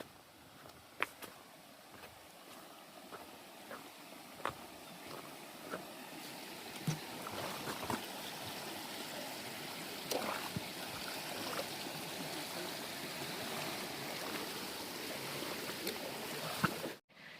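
Creek water on a hiking trail flows and trickles in a soft, steady babble, close and faint, with occasional small splashes and knocks across the stretch.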